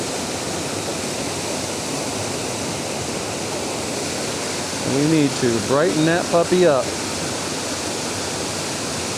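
Waterfall pouring into a pool in an autumn-to-winter landscape, a constant broad rushing roar that runs unbroken throughout, with someone briefly talking over it midway.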